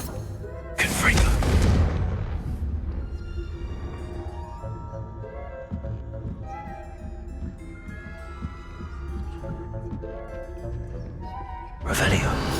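A Confringo fire spell blasting in Hogwarts Legacy, a sudden loud booming burst near the start and another at the end, with softer game sounds and tones between.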